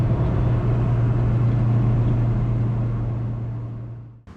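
Restored classic Mini car driving and overtaking, a steady droning engine hum with road rumble from inside the car, fading slightly toward the end.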